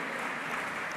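A church congregation claps together, a dense, even wash of applause held at steady moderate level throughout, with no voices standing out.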